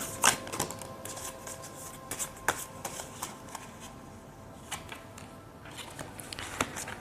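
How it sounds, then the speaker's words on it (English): Tarot cards are shuffled by hand close up, giving soft continuous riffling with sharp little snaps and taps at irregular intervals, with no talking. "Okay, so I will shuffle your tarot cards."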